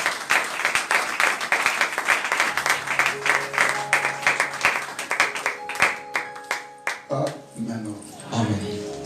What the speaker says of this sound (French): Est-ce que tu peux acclamer pour cela?